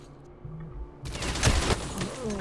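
Gunfire erupts in the S.T.A.L.K.E.R. Clear Sky shooter, a dense burst of shots starting abruptly after a quieter opening and continuing loud and rapid to the end.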